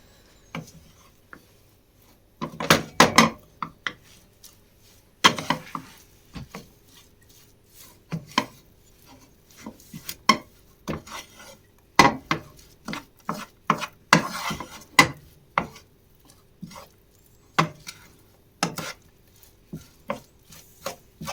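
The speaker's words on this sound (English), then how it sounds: "I just don't want to leave the powder sitting clumpy on top, so I'm making sure it's all stirred really well in." Grated potato mixture for hash browns, with a powder being worked in, stirred in a bowl: irregular close scraping and knocking strokes, some in quick bursts, separated by short quiet gaps, with no voices.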